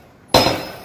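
A homemade spring-powered blacksmith power hammer strikes once, a sharp, loud metallic impact up close that rings briefly and then decays.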